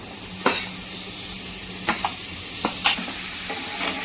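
Jackfruit seeds tipped into a hot pan of spiced masala, a low continuous sizzle broken by a few sharp clattering knocks of spoon and seeds against the pan, with no talking.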